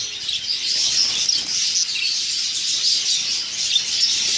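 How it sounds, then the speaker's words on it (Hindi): Budgies, a male and a female, flutter and chirp inside a small cage, a dense, steady twitter of high chirps running throughout with soft wing flutter underneath, close and fairly loud. "फड़फड़ा रहे हैं दोनों, वो उससे डर रहा है और ये मादी नर से डर रही है"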